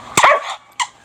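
A dog gives a sharp bark, then a second shorter yip a moment later, close and loud.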